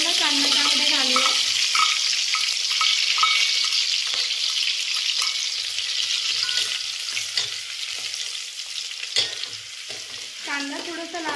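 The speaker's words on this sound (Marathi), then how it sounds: "कांदा थोडासा लाल होईपर्यंत परतूया।" Onion frying in a pan with chopped green chillies for a horse gram pulao, a loud, close, steady sizzle with scattered spoon scrapes and stirring throughout.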